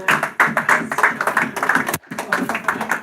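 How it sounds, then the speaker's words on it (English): Applause from an audience at a fundraising debate event, dense overlapping claps with a brief break near the end, fairly close and steady. "Kate Merrick, keep that applause going."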